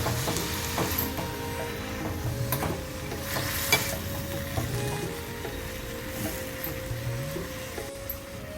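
Spinach fries in a pan for a spinach and mint chutney, a loud continuous sizzle with repeated scraping stirs and soft knocks throughout.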